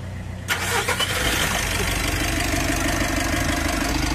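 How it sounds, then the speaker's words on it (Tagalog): A Mitsubishi L300 Euro4 van engine with an overheating problem cranks briefly and catches after a short moment of quiet, then settles into a steady, close idle. "Ibalik ko na itong radiator cap tapos pa-start ko na itong makina"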